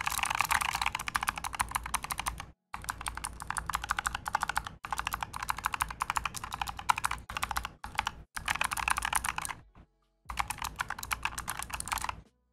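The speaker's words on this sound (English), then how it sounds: "So I'm just gonna jam around on the keyboard." Bloody B945 mechanical keyboard being typed on randomly, dense clattering keystrokes in quick bursts separated by short pauses, close and clear with no talking.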